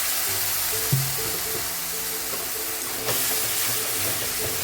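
Masala spices with cumin powder roasting in a pan for chhole rice, a steady close sizzle and hiss with soft scraping, brief bumps near one and three seconds.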